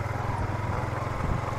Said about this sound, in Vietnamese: Ở trước đây có một chú đang cưa cây hay gì nè.